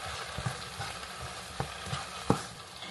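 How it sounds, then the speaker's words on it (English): Spicy chili garlic sautéing in a pan for a meal prep dish, a soft steady sizzle broken by a few sharp stirring clacks, close and fairly quiet with no talking. "And I just let that saute around a little bit more"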